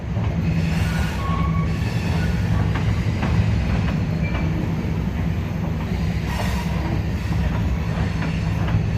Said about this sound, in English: Man, as loud as that train is, somehow people still find a way to get run over by them.